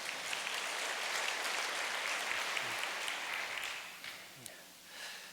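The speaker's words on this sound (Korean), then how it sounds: "지금 따뜻한 박수로 맞이해 주시기 바랍니다." Audience applause welcoming a couple to the front at an indoor religious reading gathering: a steady, continuous wash of clapping, fairly distant and soft, that thins out and tapers off in the last second.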